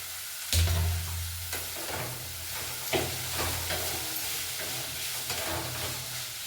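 Chopped tomatoes drop into a hot frying pan for rava khara bath with a soft thump, then a steady sizzle and fry hiss continues, broken by a few light stirring clicks.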